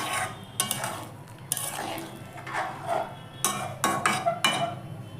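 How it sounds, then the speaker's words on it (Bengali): Bottle gourd kofta curry with garam masala is stirred gently in a pot, a spoon scraping and clinking against the metal in repeated close strokes, with a background hiss of cooking. "দিয়ে দেবো গরম মশলা, হালকা হাতে একটু নাড়াচাড়া করে ঢেকে দেবো।"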